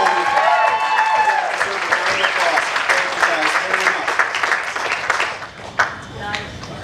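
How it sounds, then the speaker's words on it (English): Wedding guests clap and cheer for several seconds in a lively room, with whoops and chatter mixed in before the clapping thins out and fades near the end. "we want to give you guys a round of applause"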